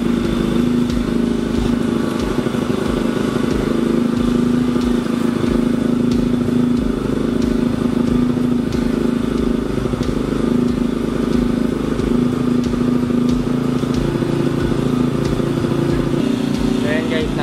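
A Bajaj Rouser NS200 motorcycle engine is held at about 4,000 RPM, a steady close mechanical drone with ticking clatter, constant in level throughout with no break.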